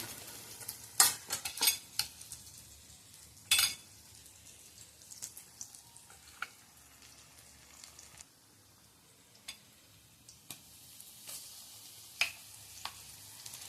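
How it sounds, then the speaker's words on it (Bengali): Chopped onion frying in a pan, a faint low sizzle running throughout, broken by sharp scattered clicks and scrapes of a spatula against the pan, some louder than others. "পেঁয়াজ কুচিটা আগে একটু ভেজে নিই।"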